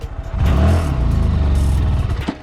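A Honda Grom motorcycle accelerates hard from first gear at the start of an uphill top-speed run, its small engine buzzing loud and close as revs climb steadily.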